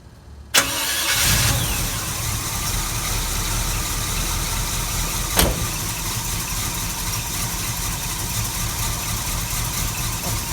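A 1974 Chevrolet C10 small block V8 cranks briefly on choke on a chilly day, catches and settles into a loud, steady idle, with a sharp click partway through.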